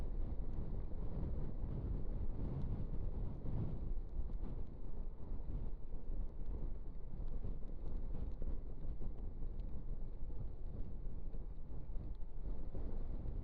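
Strong, steady wind buffets the microphone while riding a Honda NC750X motorcycle behind a windbreak, a continuous low rumbling roar that lasts throughout with no voices.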